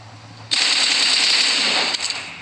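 Sustained automatic gunfire in a shooting video game, a dense loud burst of rapid shots lasting about a second and a half before breaking off into a few scattered cracks.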